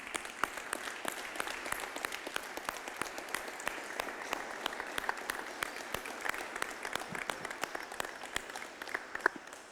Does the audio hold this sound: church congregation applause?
yes